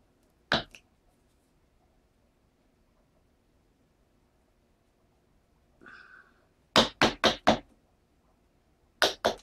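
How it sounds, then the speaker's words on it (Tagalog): A chisel is struck into the edge of a wooden door to cut a recess for a knob lock. A single sharp knock comes first, then a faint scrape, a quick run of four hits and two more at the end, all close against silence. "Ayan, papaitin nyo ito ng 1-8."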